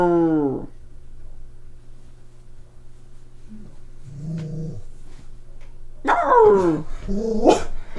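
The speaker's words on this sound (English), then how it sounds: "Oh, now he's barking." A dog gives a few short barks and growly vocalizations, close and fairly loud, broken by quiet gaps and a human voice in the background.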